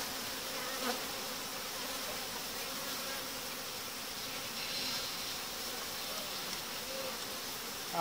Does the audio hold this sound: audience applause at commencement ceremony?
no